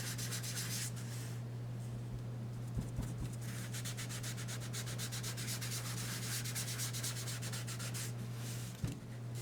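A foam sponge dabbing and rubbing soft suede ink onto cardstock gives a close, faint, rhythmic scratchy rustle in quick bursts, over a steady low hum, with no talking.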